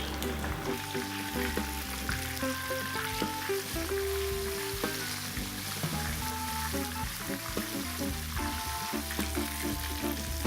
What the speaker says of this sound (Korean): 프라이팬에 기름 50ml를 넣고 튀기듯이 굽습니다.